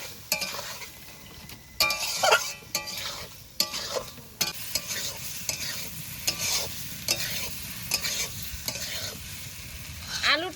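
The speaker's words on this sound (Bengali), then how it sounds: "মশলা কষানোর মধ্যে সামান্য একটু জল দিয়ে কষিয়ে নেব" Spice paste frying with potatoes and a little water in a pan, stirred with a utensil that repeatedly scrapes and clinks against the metal over a continuous loud sizzle, with no talking.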